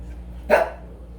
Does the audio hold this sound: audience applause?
no